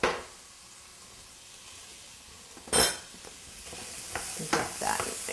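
Chopped onion hitting a pan of stewing fava beans, a steady background sizzle broken by one loud splash-like burst, then scattered spoon scrapes and clinks as it is stirred.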